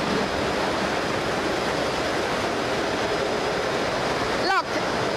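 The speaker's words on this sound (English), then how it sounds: "It can regulate the water flow to extend washing time." Water flows steadily through a large tank in an industrial vegetable washing machine on a salad production line, a loud, continuous rushing wash with a brief dip near the end.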